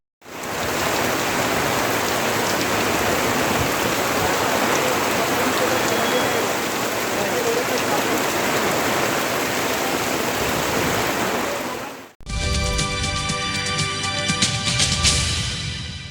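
Heavy rain pours steadily for about twelve seconds, a dense, loud hiss of water hitting surfaces with no letup, then cuts abruptly to a different, tonal noise.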